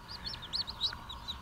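Five Ameraucana baby chicks peep in quick, high-pitched chirps, close by, over a faint steady background hum.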